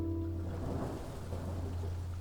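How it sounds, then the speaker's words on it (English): Heavy rain pours in a steady, dense wash with a low rumble underneath that may be thunder, fairly quiet overall, along with a faint low hum, and no one speaking. "And now the rain comes, and a heavy rain too."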